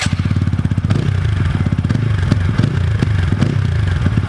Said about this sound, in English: the exhaust note is so much good that it gives you the feel to rev harder